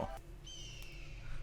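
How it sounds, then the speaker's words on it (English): A bird call from an anime episode of Vinland Saga, a clear high whistling cry that rises and holds for about a second over a low background hum. "Bird!"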